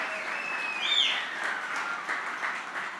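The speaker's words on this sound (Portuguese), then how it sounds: "Quem pode dar um aplauso a Cristo aí, por favor, me ajude." A church congregation applauds during a sermon, steady clapping from many people across the whole stretch, heard at moderate distance, with a brief whistling tone near the start.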